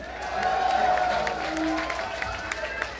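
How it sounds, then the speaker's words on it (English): A concert crowd at a show in the Culture Room applauds and cheers, a moderate, sustained wash of clapping and voices heard from within the audience. "Give him a hand."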